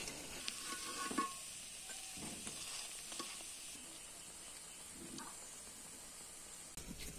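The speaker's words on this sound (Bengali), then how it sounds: "এখন এটাকে উল্টে আর 1 পিঠ ভেজে নিব।" Lentil fritters fry in mustard oil in a village kitchen as they are turned to cook the second side, giving a steady, fairly soft sizzle and hiss with a few brief louder crackles.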